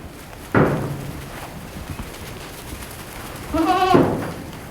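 Pregnant goats on a farm let out two loud, close bleats a few seconds apart, the second longer and wavering, over a quiet background of faint shuffling.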